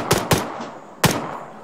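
Gunfire in the Arma video game: three sharp, close, loud shots, two in quick succession and a third a moment later, each ringing out with a short echo tail.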